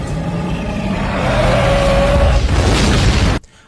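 A bomb goes off inside the mouth of a giant lava tarantula queen atop a building in a monster movie, a loud sustained roaring blast with rumble and a rising whine that cuts off abruptly.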